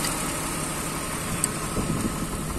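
A Mercedes-Benz 124 engine idling, a steady low rumble heard close by, even and continuous without revving, with no talk over it.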